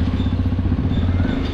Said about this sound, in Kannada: ಬೈಕ್ ಹೆಂಗೆ ಬೇಕು ಹಂಗೆ ನುಗ್ತಾ ಇದೆ